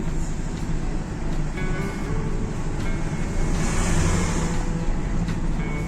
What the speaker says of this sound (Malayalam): ഇതാ ലോറി കയറി വരുന്നത്